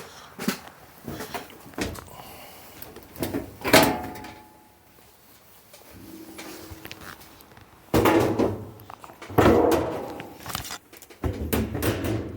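A Samsung front-loading washer's door is handled and its door lock rattled, with repeated clicks, knocks and latch clunks in irregular bursts, some louder, and short quiet gaps between them.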